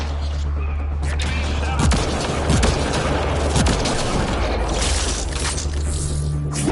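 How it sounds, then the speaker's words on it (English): Explosions and gunfire in Mass Effect: Legendary Edition, a dense continuous rumble of combat noise with a few heavier thuds standing out, loud and sustained throughout. "That's an explosion!"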